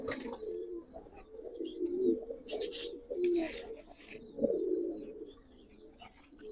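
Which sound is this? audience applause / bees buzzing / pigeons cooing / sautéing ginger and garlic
pigeons cooing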